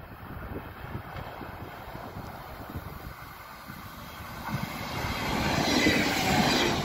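A diesel train rumbles past with rolling wheel noise and a rising roar as it draws nearer, heard from trackside without talk.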